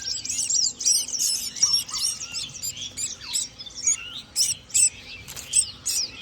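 A bird trapped inside a house chirps and tweets in quick, repeated bursts, close and fairly loud, over a low background rumble.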